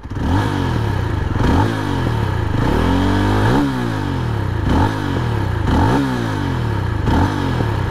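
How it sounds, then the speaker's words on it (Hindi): A Jawa 42 motorcycle's dual exhaust sounds close and loud as the throttle is blipped repeatedly, each rev rising and falling over a lumpy idle, with no talking. "मैं हल्का सा आपको जो थ्रॉटल के साथ में जो एग्जॉस्ट साउंड है वो भी आप लोगों को सुना देता हूँ।"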